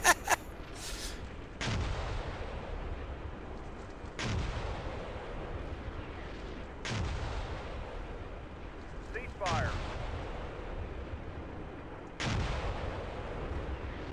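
Deep booming tank cannon shots and gunfire in a tank video game battle strike roughly every two to three seconds, each a heavy blast followed by a rumbling decay, with a few fainter pops between.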